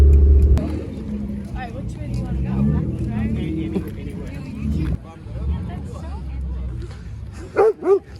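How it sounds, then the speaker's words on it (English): A dog barks and yips indoors at a car restoration shop, several sharp barks and whimpers scattered over a steady low engine-like rumble, with a person talking over much of it. "No barking."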